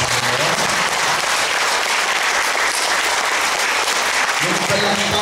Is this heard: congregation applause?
yes